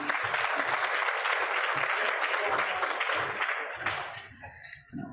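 A room of Rotary club members claps steadily to welcome guests at a meeting, a dense, even burst of applause that fades out after about four seconds.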